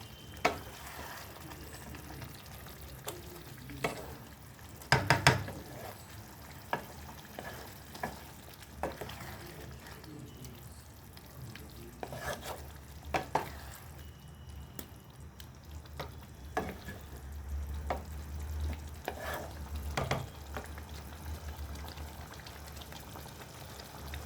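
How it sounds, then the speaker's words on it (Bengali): Meat is stir-fried kosha style in a pan, a low, quiet sizzle broken by irregular scraping and knocking of the spatula, with a few louder clatters, no voices. "মাংসটাকে এইভাবে কিন্তু কষিয়ে নিয়ে ভালো করে দেখো"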